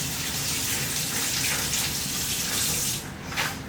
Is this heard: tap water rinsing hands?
yes